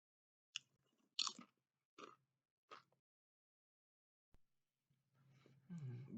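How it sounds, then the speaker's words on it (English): Crunchy, light, airy potato chips with a smoky flavour are bitten and chewed close up, giving four sharp crunches and then steadier chewing, with quiet pauses between them. "Great crunch. It's still light and airy."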